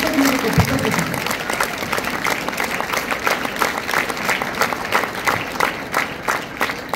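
An audience at a student gathering applauds, a dense, steady burst of many hands clapping together for several seconds, loud and close, with a short voice fragment at the very start.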